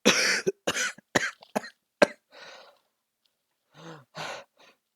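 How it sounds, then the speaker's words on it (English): A burst of sharp, close coughs in quick succession, followed by a few raspy breaths and fainter coughs trailing off. "As he starts coughing."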